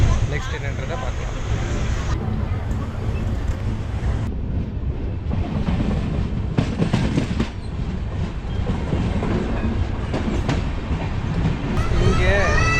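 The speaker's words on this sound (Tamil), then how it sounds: "இந்த இன்டர்சிட்டி எக்ஸ்பிரஸ் ஈரோட்லேருந்தும் கிளம்பிடுச்சு." Intercity Express train pulling out of Erode Junction, a steady loud rumble of rolling wagons with rhythmic clickety-clack and occasional wheel squeal, heard from on board.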